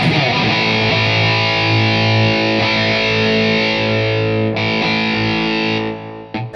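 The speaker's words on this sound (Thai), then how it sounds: "คราวนี้เดี๋ยวผมกดเสียงแตกปกติ" Heavily distorted electric guitar chords from a Shark TR-1 distortion circuit ring out loud and sustained, with a fresh strum near the end before the sound cuts off.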